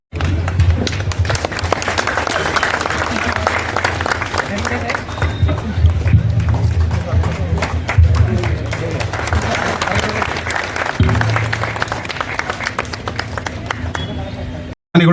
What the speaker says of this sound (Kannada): ಒಂದ್ಸಲ ಜೋರಾದ ಚಪ್ಪಾಳೆ ತಟ್ಟಿ ಅಭಿನಂದನೆ